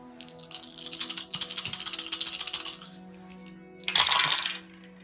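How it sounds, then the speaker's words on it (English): Five dice, two light blue and three black, rattle and tumble across a table during a game of Lands of Galzyr, a long clattering roll followed by a second short burst, close and clear. "So I get to roll these 2 light blue dice this time."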